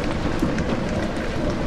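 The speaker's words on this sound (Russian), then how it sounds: "Скажи, дождь идет." Steady rainfall in the video game Amnesia: The Dark Descent hisses continuously, a dense wash of drops with a low rumbling undertone and no voices.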